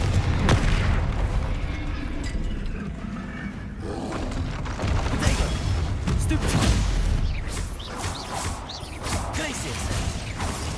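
Bombarda and Confringo spell blasts in Hogwarts Legacy explode repeatedly amid busy combat, a string of booming bursts and whooshes layered over continuous battle noise.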